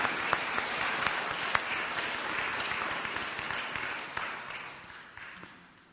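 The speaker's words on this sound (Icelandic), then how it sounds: "Ekki bara klappa fyrir Kórnum og Katrínu Valdísi Hjartardóttur" A church congregation at a Sunday service applauds a choir and a soloist with dense, sustained clapping that stays steady for several seconds, then gradually softens and fades toward the end.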